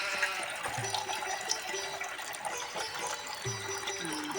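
Water running steadily from an open tank tap, making a continuous close splashing rush with faint music in the background.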